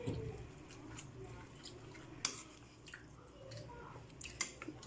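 Flattened rice (aval) stirred into a cup of milk, giving soft, wet squishing and light dripping clicks, faint and close, with a few sharper taps along the way.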